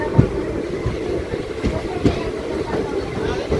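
Charlapalli–Tirupati special train pulling into Erraguntla station, a steady rumbling rail noise with faint clickety-clack and scattered thumps, heard close with someone talking over it.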